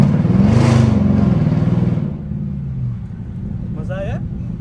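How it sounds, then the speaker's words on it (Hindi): A car engine revs and accelerates with a loud, rising rumble during a driving lesson, then settles to a steady hum while a person talks. "चलो अब मैं गाड़ी को थोड़ी सी रेस दूँ, थोड़ी सी स्पीड में चलाऊँ"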